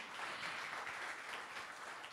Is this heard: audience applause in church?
yes